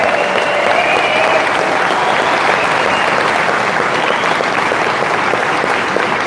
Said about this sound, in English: I would also like to say a huge round of applause for our volunteers.